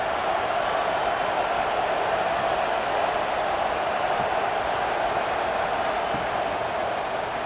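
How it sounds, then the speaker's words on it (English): Simulated stadium crowd in the College Football 26 video game, a steady, dense roar of cheering fans that holds at a constant level throughout, with no distinct talk on top. "Listen to the crowd energy here in the early going."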